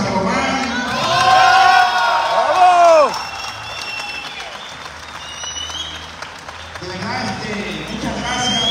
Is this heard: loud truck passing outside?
no